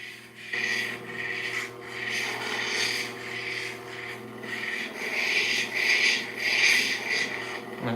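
Lapidary machine with a freeform cabochon stone held to its polishing wheel, giving a steady loud motor hum under a harsh rasping grind that swells and fades in waves as the rock shifts, close up and continuous.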